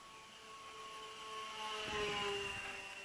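Electric motors of a mini hopper drone running at about 60% throttle outdoors, a steady tonal whine and whir that swells slightly midway, fairly faint and heard alone.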